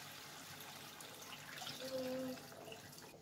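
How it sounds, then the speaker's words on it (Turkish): Hot water poured into a pot of green beans and meat, a soft, steady splashing stream that grows slightly fuller midway, quiet and close. "Şimdi sıcak suyunu da ilave ediyorum."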